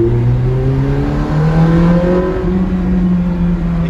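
Several sports cars, including an Aston Martin Vanquish and a Ferrari 400i, drive by on a Paris street on a Sunday morning, their engines loud and close, rising and shifting in pitch as they rev and pass.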